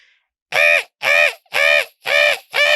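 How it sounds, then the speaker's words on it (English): A loud bird calls five times in a steady rhythm, each harsh, cawing note roughly half a second long with short silent gaps between. "Some kind of bird."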